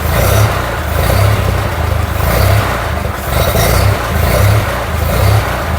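A 1940 Ford 9N tractor engine runs close by with a newly fitted 8N exhaust after a restoration, giving a steady, fairly loud low chugging with small rhythmic swells and no voices.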